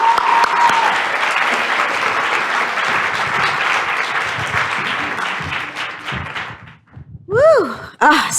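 Loud, dense applause with cheering from an audience at the Chicago MLK Jr. Oratory Competition greets an NBC 5 News emcee, holding steady for about six seconds before tapering off into a few whoops and voices.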